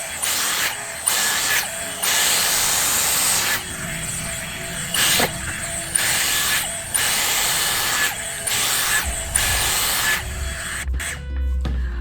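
A Dyson Airstrait hair dryer-straightener styling hair, giving a loud, steady airflow hiss with breathy rushing that surges and dips in repeated passes.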